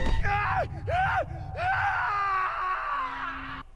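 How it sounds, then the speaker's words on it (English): A character's scream in The Last of Us video game, a loud strained cry with wavering pitch that breaks into a few gasping bursts before cutting off abruptly. "the scream got cut off"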